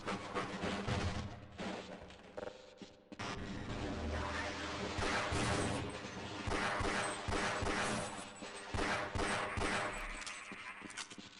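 Gunshots in Half-Life: Blue Shift, a nearly continuous dense barrage of sharp cracks and booms with a few short pauses, loud and layered over game sound effects.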